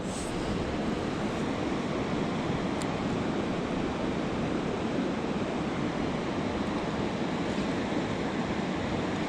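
A river flows continuously on its way through Griffith toward the Ottawa River, a steady broad rushing wash with no breaks, moderately loud with no voices.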